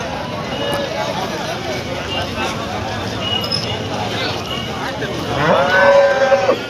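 A busy crowd murmurs and chatters continuously at the Loni cattle market, and near the end a cow lets out a loud, drawn-out moo above the noise.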